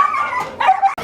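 Several dogs bark and yip close by in a busy dog market at the Sonpur Mela fair, with short sharp barks and whimpers overlapping in quick succession.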